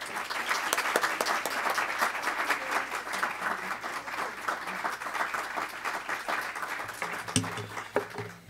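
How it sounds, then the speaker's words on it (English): Warm audience applause welcoming Congresswoman Maxine Waters at a policy event, sustained even clapping from a sizeable crowd, with a couple of louder knocks near the end. "please help me give an incredibly warm welcome of applause"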